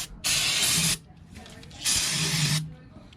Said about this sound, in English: We're just gonna spray this down with some brake cleaner real quick